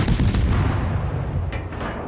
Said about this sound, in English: I just keep shooting. I just keep trying to aim for the superstructure